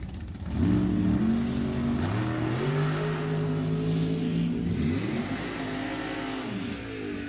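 Drag racing cars at full throttle, a '68 Barracuda and a 2010 Mullis chassis dragster, roar loudly and continuously with rising, shifting engine pitch across the run.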